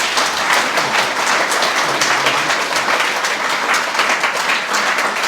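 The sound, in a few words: audience round of applause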